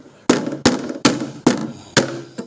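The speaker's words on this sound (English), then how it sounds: "You could use a hammer." A hammer strikes a PC motherboard five times at a steady, deliberate pace, each blow a sharp, close, loud impact with a short ringing decay.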